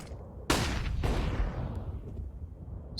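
AUG rifle shots in Counter-Strike on the Dust2 map: two loud, sharp reports about half a second apart, each ringing into a long echoing tail, with no voices over them.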